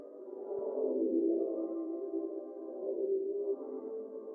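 Replacement main menu sound in a modded Ren'Py visual novel, a soft, sustained, wavering tone that swells and dips continuously without breaks, quiet and alone.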